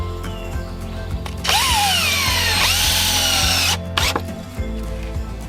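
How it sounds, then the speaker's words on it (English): A power drill drives screws into wooden raised garden bed boards: a loud, close whine rising as each screw bites, two sustained bursts with a short pause between, then quieter clicks and handling. "We're going to put 2 screws into each side."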